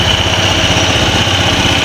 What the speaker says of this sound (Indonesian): Kita hidupkan dulu di sini ya motornya.